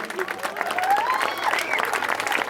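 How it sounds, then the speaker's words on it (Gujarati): Dense crowd applause at a community cricket tournament prize ceremony, continuous clapping from many people with a few voices and faint whistles mixed in throughout. "જોરદાર તાળી પાડી વધાવજો ભાઈ"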